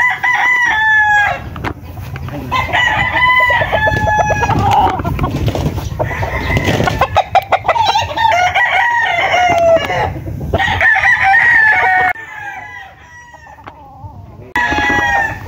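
Several roosters crow repeatedly, some near and loud and others farther off, with clucking among the fowl in between. The birds include cocks and bullstags, among them a three-year-old brown red, kept at a farm offering them for sale.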